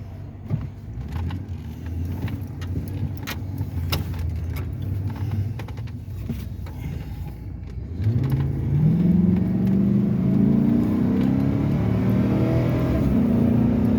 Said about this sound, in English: Runs pretty good for a 3/4 ton truck.